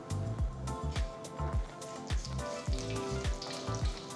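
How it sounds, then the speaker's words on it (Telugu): Mustard and cumin seeds spluttering in hot oil in a kadai, with repeated sharp pops and crackles over a steady sizzle, close and fairly loud, with no talking. "ఆవాలు చిలపడలాడటం స్టార్ట్ అయింది"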